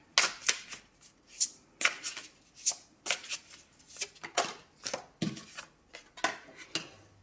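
Tarot cards are shuffled and drawn from a deck in a series of crisp, close riffling bursts and sharp flicks, irregular and fairly quiet, with no talking.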